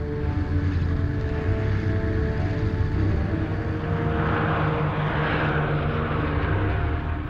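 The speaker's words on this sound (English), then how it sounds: "Hitler's pilots blitz Britain day and night" World War II bomber engines droning in old archival film footage, a loud, continuous low rumble of heavy aircraft that holds steady throughout with no speech.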